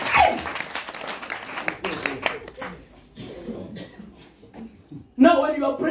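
Clapping from a church congregation at a crusade, dense and fairly loud, mixed with voices and shouting, with a fresh louder burst near the end.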